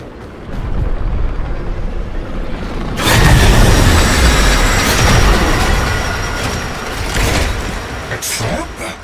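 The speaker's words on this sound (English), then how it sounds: "The next train is arriving" A train in Warframe rolls into a station with a steady rumbling clatter that swells into a louder grinding roar with faint squealing wheels, then eases off, as a voice speaks over it.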